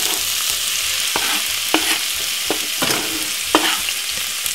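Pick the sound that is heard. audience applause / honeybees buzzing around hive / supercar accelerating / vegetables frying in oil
vegetables frying in oil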